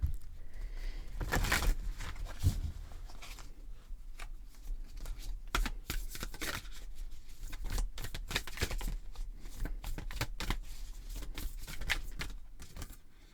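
Cards being shuffled over and over, a steady run of crisp riffling bursts and soft slaps, close by with no voices.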